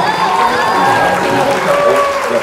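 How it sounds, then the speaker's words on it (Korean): Crowd applause and some cheering at a Disco Pang Pang ride at Wolmido, Korea, a steady wash of clapping over fairground music and an operator's amplified voice, continuous and fairly loud throughout. "야, 쟤 박수 받았어, 이제."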